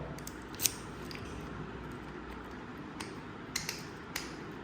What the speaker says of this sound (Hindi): ये अच्छे से ऑपरेट हो रहा है, बिल्कुल नया लॉक है।